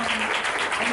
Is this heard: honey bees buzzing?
no